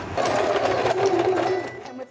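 A sewing machine stitches a quarter-inch patchwork seam with fabric pieces placed right sides together. The motor whirs in a fast, steady run, close and loud, for about two seconds before winding down.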